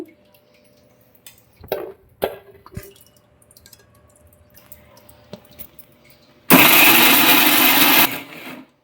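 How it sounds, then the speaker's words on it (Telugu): Brinjal chutney goes into a kitchen mixer grinder. A few soft knocks and clinks of the jar come first, then the motor roars in one loud burst of about a second and a half before it stops. "మనం మిక్సీలో వేసుకుంటున్నాము"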